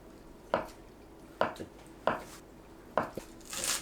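A knife cuts a block of tofu into small cubes on a board, four distinct chopping knocks in an uneven rhythm, close and fairly clear with quiet background.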